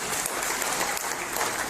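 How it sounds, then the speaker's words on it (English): Audience at an Indian community honoring ceremony in Liberia applauds Mrs. Theodosia B. Scott, a steady, dense wash of clapping from a full room that holds at even loudness throughout, with no voices over it. "give a big hand of applause to Mrs. Theodosia B. Scott"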